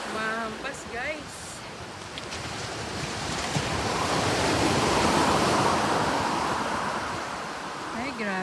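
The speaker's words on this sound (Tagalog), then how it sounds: "Malakas ang alon ng tubig, guys." Strong ocean waves crash and wash onto a beach strewn with driftwood, a loud, broad roar that swells toward the middle and is buffeted by wind, with a voice speaking briefly at the start and end.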